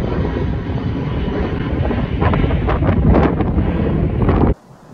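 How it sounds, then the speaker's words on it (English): A loud, steady roar of rushing air and engine noise builds and swells, then cuts off abruptly near the end. "This is an aeroplane taking off."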